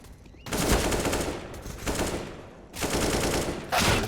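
Gunfire in Counter-Strike: Global Offensive: three loud, close bursts of rapid automatic shots, separated by brief quieter gaps, with a short fourth burst at the end.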